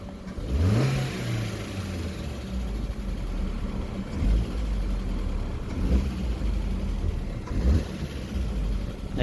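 A Vauxhall Astra H 1.4 SXi petrol engine with its stock exhaust is revved repeatedly from idle, giving several rising, near revs that fall back to a steady idle between blips.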